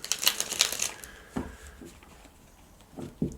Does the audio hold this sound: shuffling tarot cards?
yes